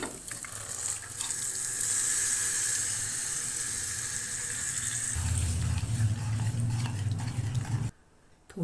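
Water from rinsing a pressure cooker pours steadily into a pan of cooking dal, a continuous close splashing and gushing that deepens midway, then stops abruptly.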